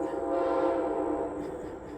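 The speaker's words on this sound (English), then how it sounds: "No, it's the Amtrak." An Amtrak train passing close by makes a steady, loud rumbling roar with a sustained tonal hum layered on top, filling the whole short moment.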